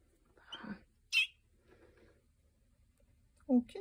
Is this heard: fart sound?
no